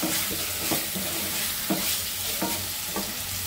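Fish pieces are sautéed with spices in a pan: a constant close sizzle with a spatula scraping and turning roughly every half second to second, no voices.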